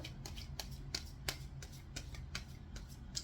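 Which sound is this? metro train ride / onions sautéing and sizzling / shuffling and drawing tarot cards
shuffling and drawing tarot cards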